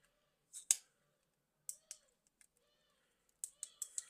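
Small button on the back of a pair of cheap Chinese-made headphones being pressed, giving sharp dry plastic clicks in scattered pairs and a quick run of four near the end, close and quiet with no talk.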